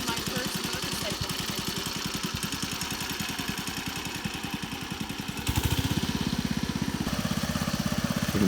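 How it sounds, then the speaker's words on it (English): An old Honda barn-find motorcycle engine, a SilverWing GL500, CM400 or 350, runs close by with a rapid pulsing chug that grows louder and rougher as it revs partway through, while people talk over it. "I'm driving my first motorcycle."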